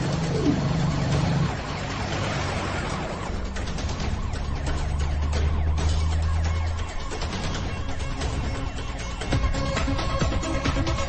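A wailing siren sweeps up and down continuously amid loud traffic noise, close and prominent throughout, with engine rumble underneath.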